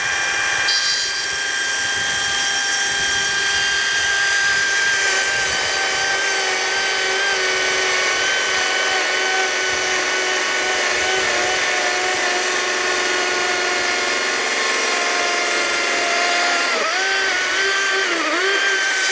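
An EGO CS1200E battery chainsaw bores into hardwood with a continuous loud, whining cut whose pitch holds steady, then dips and wavers near the end as the bar works through the wood, close up and with no talking.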